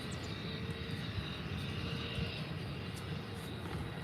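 Aircraft taxiing to runway 10 at Faro Airport, a steady broadband engine rumble that holds at moderate, fairly distant level throughout without clear rise or fall.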